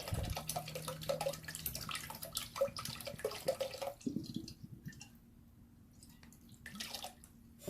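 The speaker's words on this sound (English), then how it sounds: "I'm gonna pour the water out." Water is poured out of a Chia Pet container into a sink, splashing and trickling quietly at close range, then thinning to a few soft drips near the end.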